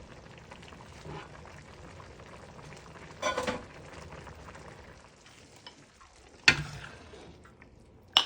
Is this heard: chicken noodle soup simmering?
yes